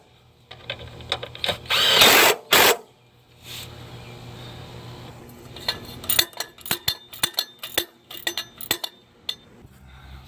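A power drill snugs transmission bolts on a 2011–2016 Chevy Cruze in short bursts: one longer whir, then a series of quick pulses mixed with metallic clinks from the bolts and tool, close by.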